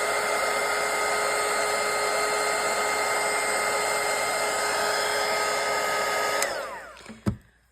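A hair dryer blows on a watercolour painting, a loud steady whirring drone with a high whine that switches off near the end and winds down, followed by a sharp click.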